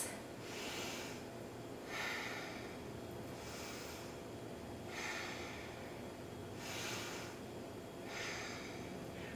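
Slow, deep yoga breaths come in soft, even cycles of inhale and exhale, quiet and close, with no talking.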